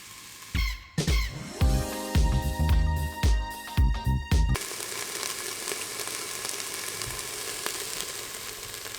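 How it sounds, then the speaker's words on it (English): Onions sauté in a dry, oil-free pan: for the first half, loud squeaky scrapes and thumps of stirring, then a steady, softer sizzle carries on alone. "just keep sauteing away until they are nice and slightly brownish and"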